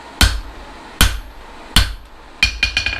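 A hammer forging hot steel for blacksmith bolt jaw tongs rings out in sharp, loud metallic strikes: three spaced blows, then a quick run of four lighter taps.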